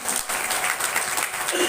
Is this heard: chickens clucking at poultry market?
no